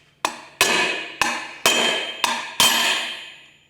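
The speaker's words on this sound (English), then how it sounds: "it's going to need a fair old whack to get in there" A bronze ring is hammered into a tight Warn 8274 high-mount winch brake housing, six sharp metallic strikes ringing close and loud in an uneven rhythm, each decaying briefly before the next, with no talking.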